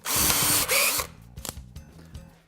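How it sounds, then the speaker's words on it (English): A hammer drill bores into a wall in a loud, close burst of about a second, then falls back to quieter rattling and a low steady rhythm. "Hammer drill action."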